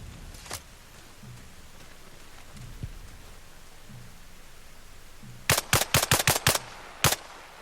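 Machine gun fire in Arma Reforger: a single shot early, then a rapid burst of about six loud close rounds followed by one more shot, over a quiet rain-like background.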